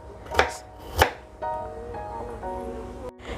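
A kitchen knife chops garlic and shallots on a board for Surabaya lontong mie, two sharp close cuts followed by a quieter stretch of kitchen noise with a faint tonal hum.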